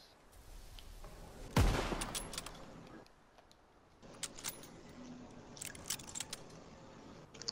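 Gunfire in the Call of Duty WW2 video game: one sharp, loud shot early on, then lighter clicks and faint pops scattered across the rest.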